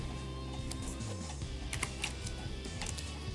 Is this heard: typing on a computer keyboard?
yes